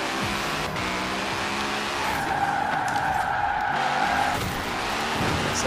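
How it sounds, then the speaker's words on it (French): Ken Block's Hoonitruck Ford F150 drifting in Forza Horizon 4, a loud, continuous tire squeal riding over a roaring engine, with a sustained high screech in the middle as the slide holds, close and unbroken. "Ça part en glisse, mais il faut savoir la contrôler quand même, la glisse."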